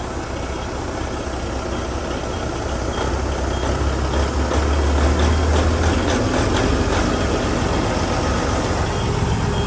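Vehicle engine idling steadily at about 900 RPM, a continuous low rumble with a faint mechanical patter on top, fairly close and unchanging, with no talk over it.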